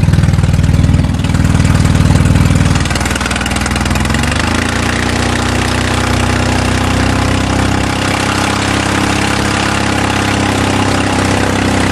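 A rear-wheel-drive farm truck on meaty tires runs in wet snow, its engine rumbling steadily and loud up close, with a slight shift in tone after the first few seconds and no voices.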